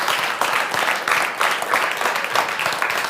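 An audience at an Estonian sommelier competition claps steadily, a dense ongoing round of applause with rhythmic surges, no talk over it.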